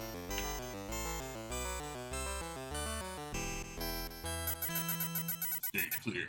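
TurboGrafx-16 game music from Vigilante: bright, buzzy chiptune melody over a stepping bass line, with a rapid fluttering arpeggio section near the end, continuous and fairly quiet.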